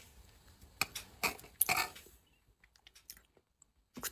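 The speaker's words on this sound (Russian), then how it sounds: "Я кушаю." Someone eating and chewing food up close, with a few bursts of wet, crunchy chewing followed by softer, quieter mouth sounds and a brief noise at the end.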